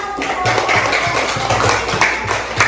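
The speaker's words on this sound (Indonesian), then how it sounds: "beri tepuk tangan" A classroom of students claps together after a lesson on kidney and urine formation, a dense, steady patter of many hands over about three seconds, with faint voices underneath.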